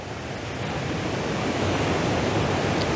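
A roaring river crashing below a big waterfall, a dense, steady wall of loud rushing water that swells slightly and never lets up, with no voices.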